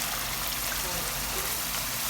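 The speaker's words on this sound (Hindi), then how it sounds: "अब हम इसमें पानी ऐड कर देंगे।" Water pours steadily into a pot of cooking mutton for achari gosht, a continuous broadband splashing rush heard up close and alone.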